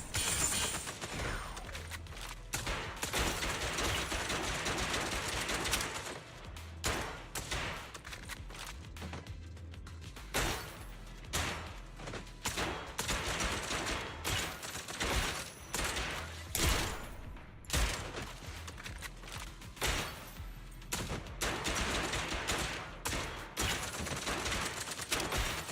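Video game gunfire crackles in dense, repeated bursts over a long stretch, sharp volleys that come close together with short gaps and stay fairly loud throughout.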